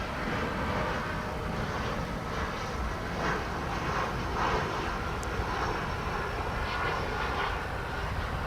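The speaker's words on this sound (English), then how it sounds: "Got an A319 coming in" An American Airlines Airbus A319 from Bilbao comes in to land at Dallas Fort Worth airport, a continuous jet engine rumble with a soft rising and falling whoosh, moderately distant and alone.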